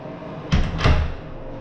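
A screen door in a house under construction is handled, giving two close, solid knocks about a third of a second apart in a quiet room.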